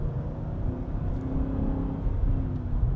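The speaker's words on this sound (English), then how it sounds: "Go ahead and run the Aston up to speed. 3rd gear," A 2014 Aston Martin V8 Vantage with a six-speed manual pulls hard in third gear on a farm road, its steady, loud engine drone rising as it accelerates, with no other sounds.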